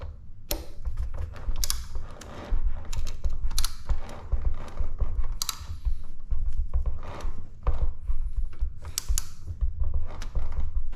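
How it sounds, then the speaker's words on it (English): A socket wrench with a 6mm socket tightens a screw on a 2021 Yamaha MT09 during a steering damper install, giving repeated close ratcheting clicks and creaks in uneven bursts. "I think it's going to be easier to go ahead and use a socket with a 6mm head"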